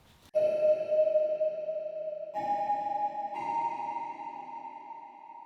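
Kalimba notes sit drenched in heavy Strymon BigSky reverb, turning into a sustained, shimmering wash. A soft pluck opens it, then two more notes follow, each swelling into a long, ringing ambient tail with no silence between.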